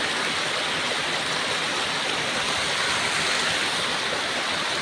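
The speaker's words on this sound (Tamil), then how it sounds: "நல்லாயிருக்கு இந்த அருவிக்கு எல்லோரும் வாங்க" A waterfall near Natham, Manakkattur rushes in a dense, steady roar of falling water, loud and constant throughout with no voices.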